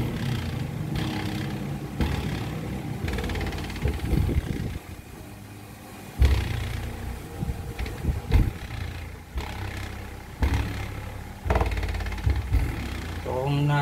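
A 500-watt car-audio subwoofer speaker under repair plays a song with deep, pounding bass pulses, loud and close, the low-end throbbing in uneven bursts throughout.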